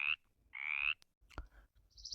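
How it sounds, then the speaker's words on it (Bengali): A frog croaks alone in two loud, buzzy calls close to the listener, followed by a few softer clicks and a brief higher chirp at the end. "ব্যাঙ।"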